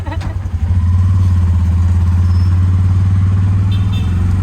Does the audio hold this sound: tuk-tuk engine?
yes